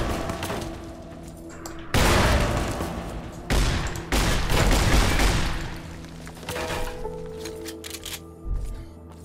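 Loud bursts of turret gunfire in Fallout New Vegas, repeated booming volleys with sharp cracks and sustained rattling between brief lulls.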